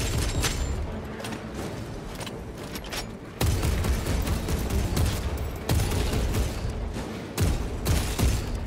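Heavy weapon fire in Space Marine 2 from a gun's grenade launcher, a dense, loud barrage of booming blasts with several sharp jumps in intensity over a constant rumbling battle din.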